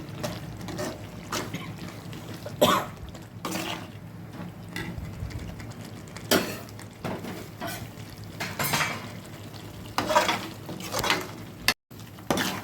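A spoon scrapes and knocks around a pan of mushroom pepper masala with coriander sprinkled in, giving a close series of irregular clanks and shuffling stirs over a steady background hum.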